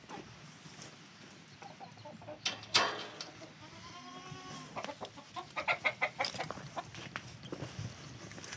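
Chickens cluck and call nearby in a scattered, irregular stream, with a few louder squawks and some bleating mixed in.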